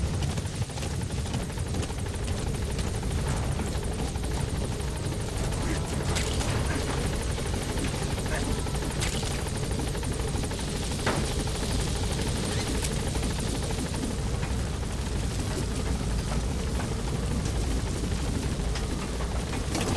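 A support helicopter hovers at a landing zone in Metal Gear Solid V: The Phantom Pain, its rotor drone loud, close and continuous from start to finish with no voices over it.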